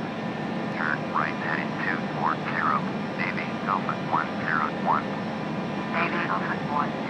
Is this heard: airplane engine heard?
yes